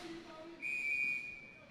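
A referee's whistle at a junior college ice hockey game in an arena sounds one sustained, shrill blast of about half a second, clear above the low crowd and rink noise.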